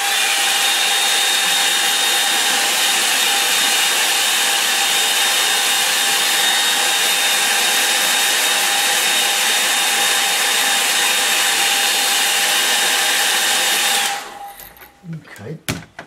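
A hair dryer blows over a watercolour painting of oak trees, a loud, constant close whoosh lasting about fourteen seconds before it switches off and a few handling knocks follow.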